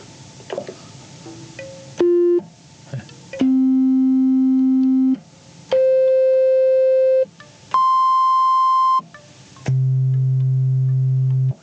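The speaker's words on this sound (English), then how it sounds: "I've got a sine wave going into the Wasp." Pure, steady electronic sine tones from a synthesizer oscillator fed into a Wasp synthesizer with no resonance, each held a second or two, stepping between different pitches with short noisy bursts in between.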